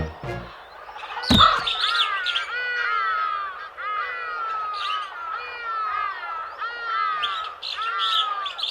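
A crow in an animated Asian folk tale gives rapid, repeated raspy calls in a near, continuous string, with a sharp knock early on and no talk.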